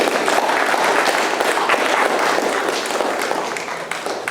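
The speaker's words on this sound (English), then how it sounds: "But would you applaud the efforts that they did relive Raghunath?" Audience applause at a talk on India's cultural history, a dense, sustained clapping from a crowd, loud and steady throughout with no voices.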